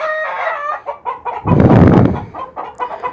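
Chickens cluck in short nervous bursts while a rooster lets out a loud, strained crow in the middle, with more clucking before and after.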